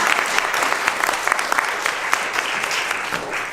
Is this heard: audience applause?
yes